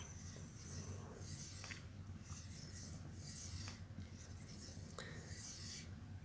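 A Spyderco knife blade glides lightly across an abrasive in repeated soft rasping strokes, close and fairly quiet, with a hissy scraping texture and no talk.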